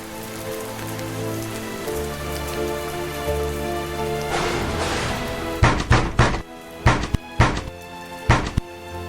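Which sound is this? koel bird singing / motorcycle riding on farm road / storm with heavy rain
storm with heavy rain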